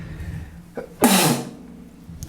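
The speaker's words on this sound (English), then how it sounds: "Excuse me, I need to sneeze." A single loud, sudden sneeze bursts out close up after a short sharp inhale, over a steady low background hum.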